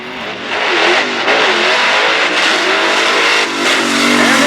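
A high-revving stick-shift Chevy II drag car roars loudly and continuously at launch for a wheelstand, engine note climbing and shifting pitch, with a crowd and track ambience behind it at a power wheelstanding championship.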